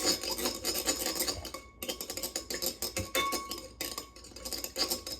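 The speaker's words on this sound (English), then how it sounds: "Some of this paint is a little old, so it's not stirring so well" Old, thick watercolor-style paint is stirred in a small container, giving close, rapid scraping and clinking strokes in quick bursts, with two brief pauses between rounds.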